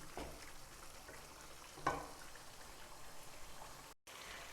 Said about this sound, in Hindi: इसको हमने भूनना है अच्छी तरह से